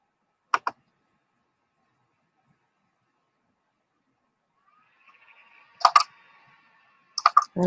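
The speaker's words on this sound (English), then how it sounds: "I don't like that clicking sound from my laptop." Sharp clicks from a laptop come in short isolated bursts, a double click near the start and a few more clusters toward the end, separated by near silence with a faint electronic whine between.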